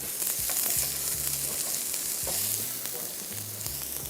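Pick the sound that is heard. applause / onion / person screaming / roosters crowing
onion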